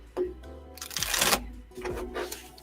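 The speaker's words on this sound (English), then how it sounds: "I'm just going to make sure I shuffle these appropriately." A deck of tarot cards is shuffled by hand in several quick riffling bursts, close and crisp, with brief pauses between passes and no speech.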